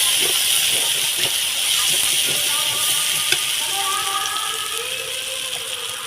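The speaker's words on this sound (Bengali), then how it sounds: "আমি এখানে একটু জল দিয়ে দিচ্ছি, উষ্ণ গরম জল" Warm water being poured into a fish curry as it cooks, a steady loud hiss and gush of liquid hitting the hot pan that holds for several seconds with no voice over it.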